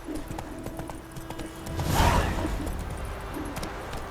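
Horse hooves gallop in The Witcher 3, a rhythmic clip-clop running under game ambience, with a whooshing swell of movement in the middle.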